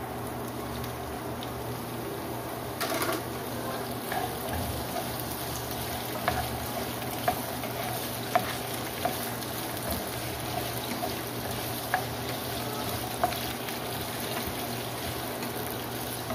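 Green papaya sautéing with other ingredients in a frying pan for a Filipino ginisang papaya dish, giving a steady soft sizzling hiss broken by occasional faint clicks, with no talking.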